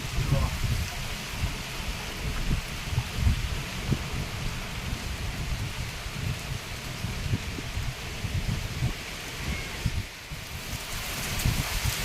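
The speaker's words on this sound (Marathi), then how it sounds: "झाडं बघा किती जोर आलं" Strong wind pushing through trees with rain during a May pre-monsoon storm in a Konkan village, a continuous roaring rush with gusty surges and low rumbles.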